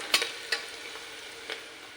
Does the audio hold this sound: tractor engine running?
no